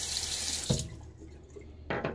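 Tap water runs into a sink for rinsing during a wet shave, a steady hiss at first, then cut off, with a short splash and a brief burst of running water near the end.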